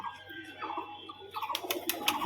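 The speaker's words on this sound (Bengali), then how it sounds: "খুবই সুন্দর এক জোড়া কালদম পায়রা" A pair of pet Kaldom pigeons at home giving a few soft cooing calls, quiet and close, followed by brief sharper clicks and flutters near the end.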